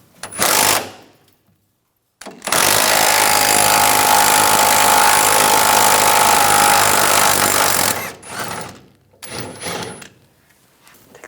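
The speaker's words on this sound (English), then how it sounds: "we're going to use the 21mm wrench on the inside on the nut, 21mm socket on the bolt" A 21mm wrench and 21mm socket work the upper shock absorber bolt and nut on a 1999-2006 Chevrolet Silverado 1500. Loud, sustained mechanical rattling runs for several seconds, with shorter bursts before and after.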